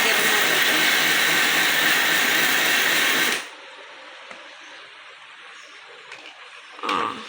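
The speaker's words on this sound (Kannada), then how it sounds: "ಪುಟಾಣಿ ಮತ್ತು ಬೆಲ್ಲನ ನಾವು ಮಿಕ್ಸಿಗೆ ಹಾಕಿದ್ವಿ" A kitchen mixer grinder whirs loudly, grinding roasted gram and jaggery for a Ugadi neem-jaggery mix, then cuts off abruptly after about three seconds, leaving faint clinks and a short rustle.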